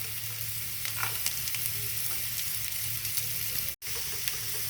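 Carrots added to onions and curry leaves frying in hot oil, giving a continuous close sizzle with occasional stirring scrapes and a brief dropout near the end.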